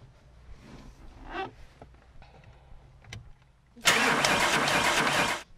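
A car's engine starting during a driving lesson: soft interior rustles and clicks, then a sudden starter crank that catches into a loud, steady running engine before cutting off near the end.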